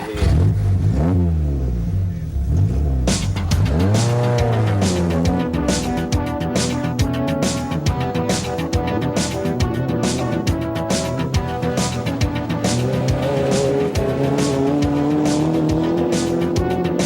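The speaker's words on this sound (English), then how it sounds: "I'll show Frank and Becky what a good monster truck driver I am." Monster truck engine revving and accelerating through tricks, loud and continuous with tires squealing and skidding, rising and falling engine pitch throughout, no voices.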